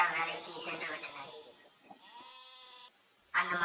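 Cartoon goats bleat on a village farm in a Tamil animated story, a short wavering bleat rising out of narration and background sound, with a voice talking over most of it.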